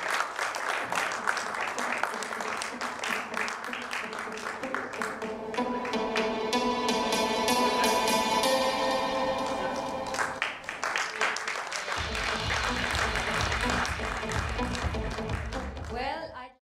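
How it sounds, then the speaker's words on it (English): Audience applauding an award winner at the BFSI Excellence Awards 2021 ceremony, a steady wash of clapping that swells in the middle and carries on with some background voices and music. "Can we please give them a round of applause"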